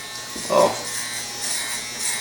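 Electric hair clipper with a 2 guard (1/4 inch) and its blade opened up, cutting hair for a high and tight military haircut: a close, steady buzzing hum with a brief louder burst as it bites into hair.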